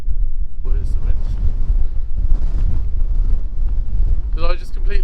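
Strong gusty wind buffets the microphone beside a Lake District tarn, a loud low roar throughout, with a voice speaking briefly over it near the start and again near the end.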